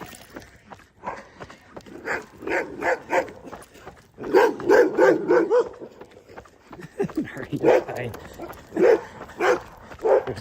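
A dog barks at passing runners on a street, several bursts of repeated barks in clusters, fairly close and loud, with some breathing and movement between them.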